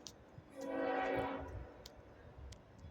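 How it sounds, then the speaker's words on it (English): A train horn sounds in one sustained blast, rising from about half a second and fading out by around 1.5 seconds, moderately distant, with a steady rumble of passing rail cars under it and faint intermittent clicks. "Enjoy the train"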